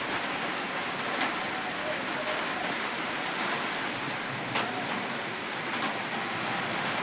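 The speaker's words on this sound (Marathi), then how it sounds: "बघा पाऊस यायला लागला बघा." Rain falling outdoors during a gusty, windy spell, a steady close wash of broadband hiss that runs unbroken throughout with a few brief louder gusts.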